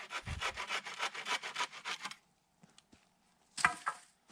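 A handsaw cuts through wooden tarp poles at a snowy campsite in rapid back-and-forth rasping strokes for about two seconds, then a pause with faint knocks and one last short burst of sawing, close and fairly quiet.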